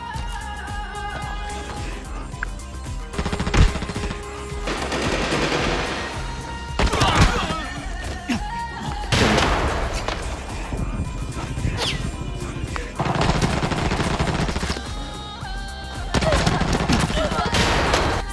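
Rapid bursts of AR57 rifle fire in the shooter game Arena Breakout repeat through sustained volleys over game music and effects, loud and close, with a voice talking at times.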